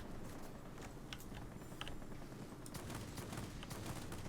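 Aircraft cannons in the World of Warplanes video game, fired from a Me 329, come as quick, scattered bursts of sharp reports over a steady engine hum, soft and somewhat distant.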